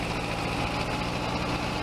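A small tractor engine idles in Farming Simulator 22, a steady, loud, close mechanical hum with even low vibration throughout.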